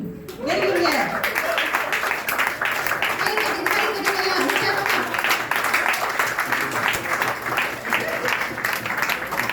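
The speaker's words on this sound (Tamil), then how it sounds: "உங்க எல்லாரோட கைத்தட்டல் தான் அவங்க போட்டியை உற்சாகமா கலந்துக்கிறதுக்கு உதவியா இருக்கும்" A church congregation at a Methodist Women Sunday service drama in TMC Semenyih claps for a contestant, a steady applause that runs throughout while a voice carries over it.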